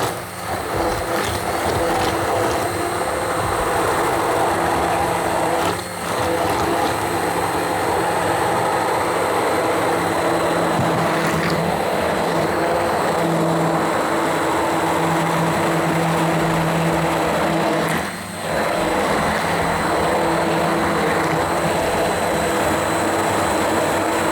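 A food processor blitzing pumpkin and egg whirs loudly and steadily, with two brief dips where the motor pauses between pulses.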